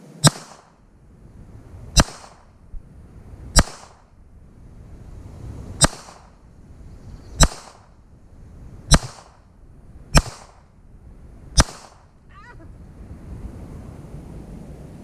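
Ruger LCP Max pistol shots at a range target, eight sharp loud reports spaced roughly every one and a half to two seconds, each trailing into wind and outdoor hiss, followed by a quiet tail.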